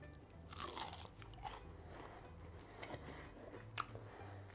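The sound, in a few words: biting into crispy fried garlic pork chop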